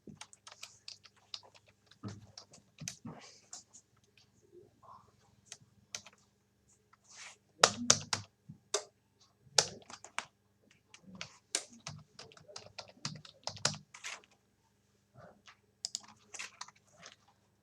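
Computer keyboard keys tapped in bursts while an email address is entered into a Microsoft Word résumé, with irregular clusters of close, crisp clicks and short pauses between them, no talking.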